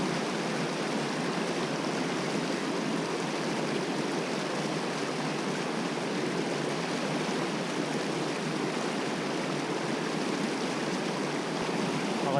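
Stream water pouring over a cascade on the Vence river, a dense, even roar of rushing water that stays loud and close without pause, with no voices.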